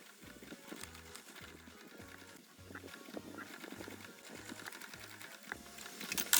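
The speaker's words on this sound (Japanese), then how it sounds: "周りを仮留めしていきます。" A sewing machine bastes around the edges of a mini shoulder bag, running in a steady series of short, evenly spaced stitching bursts, close and fairly quiet.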